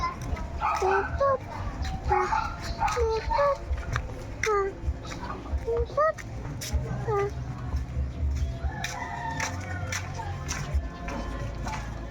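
A small dog yips and barks several times in short bursts while children chatter and play nearby.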